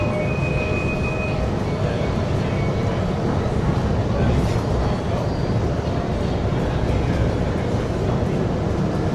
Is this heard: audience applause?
no